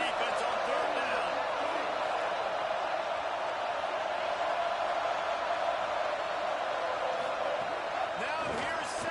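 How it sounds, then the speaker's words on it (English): A dense stadium crowd roar swells during a third-down defensive stand in a college football video game between FSU and Clemson, a continuous loud wash of cheering with faint thuds underneath. "Decibels rising as the crowd gets behind this defense on 3rd down."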